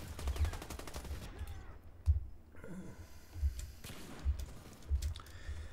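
SA Hellion rifle firing in a video game, a quick rapid burst followed by several evenly spaced heavy single shots with deep low thumps, loud and close, with no talk.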